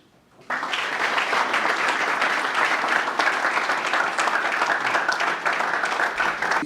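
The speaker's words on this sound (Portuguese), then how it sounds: "uma salva de palmas para todos nós" An audience at a book launch in a Luanda library breaking into applause, starting abruptly after a short quiet moment and continuing as a thick, steady clapping from a nearby crowd.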